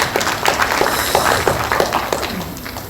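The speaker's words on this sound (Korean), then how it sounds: "우리 안모세 목사님께도 뜨거운 박수를 보내주시기 바랍니다" A crowd at an indoor public meeting claps for a pastor, giving steady, moderately loud applause with a few louder individual claps mixed in. The clapping fades slightly toward the end.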